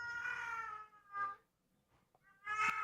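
A pet cat named Chewbacca meows in three drawn-out, close calls separated by short silences, the last one loudest.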